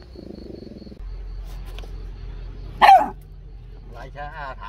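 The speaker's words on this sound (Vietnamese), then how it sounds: "Lần đầu tiên cái bẫy mà dính chó." Dog caught in a weasel trap gives one sharp, loud bark partway through, with low rumbling noise and a few people speaking before and after.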